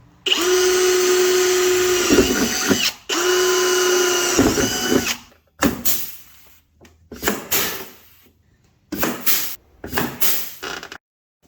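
A power drill sets rivets in the tabs of a tunnel cooler on a side-by-side: two long, loud, steady whirring runs, then several shorter bursts with pauses between them, close up and with no talk.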